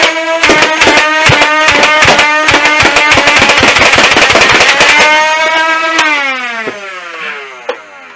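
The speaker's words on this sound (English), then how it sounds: "it's easily able to rattle off a bunch of shots really fast" An Adventure Force Rebel Mech foam dart blaster fires rapidly, a loud fast rattle of shots over a whirring motor for about five seconds, then the motor spins down with a falling whine.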